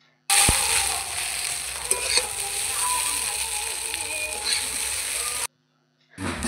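Egg bhujia and chowmein sizzle and fry steadily in a hot pan, with scraping stir strokes and light clanks over a continuous loud crackle that stops abruptly near the end.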